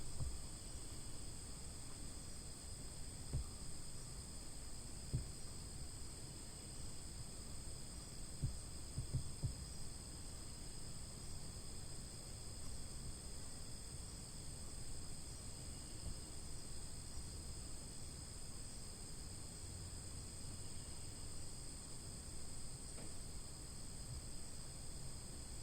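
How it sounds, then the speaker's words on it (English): Steady high-pitched crickets chirp continuously at a quiet retreat at Chapin Mill, a faint, even insect drone held at a distance under soft low outdoor rumble throughout. "the birds, the crickets right now"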